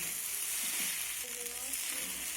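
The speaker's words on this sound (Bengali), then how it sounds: "ম্যাগি মশলাটা দিয়ে আমি ভালো করে নেড়ে চেড়ে নিয়েছি" Noodles with Maggi masala being stirred in a pan, a faint, steady frying sizzle with soft stirring movements, heard alone for a couple of seconds.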